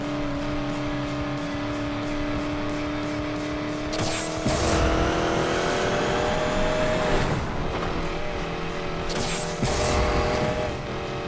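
A Ford Mustang Boss 302 in the racing game Need for Speed Payback roars at high revs, with two sharp surges as nitro kicks in, plus gear shifts and tire squeal, loud and close with no talk.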